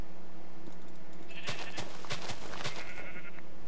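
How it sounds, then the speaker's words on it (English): Sheep bleat in Minecraft with the Feed The Beast modpack, a cluster of short, wavering bleats in quick succession over a faint, steady background hum. "Yay! Sheep."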